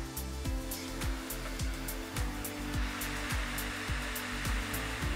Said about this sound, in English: So really when you've got a dryer with an engine as strong as I have